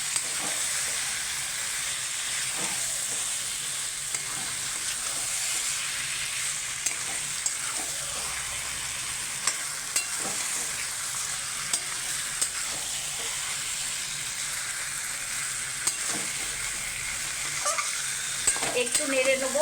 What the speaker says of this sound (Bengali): এই যে পুরো মাংসটা দিয়ে এবার আমি নেড়ে চেড়ে নেব ভালো করে